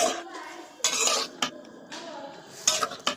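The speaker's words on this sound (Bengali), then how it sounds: "আমরা ভাজা মশলার মধ্যে মাংসটা দিয়ে সুন্দর মতো নাড়াচাড়া করে নিচ্ছি" Chicken stirred into fried spices in a pan brings irregular metallic scrapes and clanks of a spoon against the pan, close and fairly loud, with little talk.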